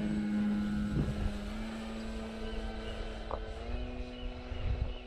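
A FLEX Innovations Cessna 170 RC plane flies overhead in a light crosswind, its propeller giving a steady, moderately distant drone that shifts slightly in pitch.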